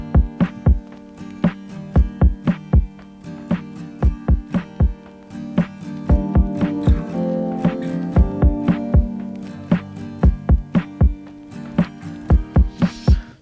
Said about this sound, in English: all I did, I picked a drum loop that I thought was nice